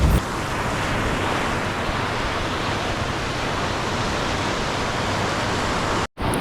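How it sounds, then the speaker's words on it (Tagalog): Strong surf pounds a beach on Boracay in a loud, continuous roar, with wind buffeting the microphone and a brief dropout near the end. "Yan din, ang lakas ng alon."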